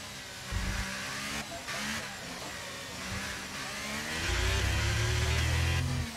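F1 car engine in the racing game F1 23 on the Mexico circuit with a custom setup: a continuous high-pitched whine that surges and drops as the throttle is worked, ending in a louder, deeper sustained roar, with no voices.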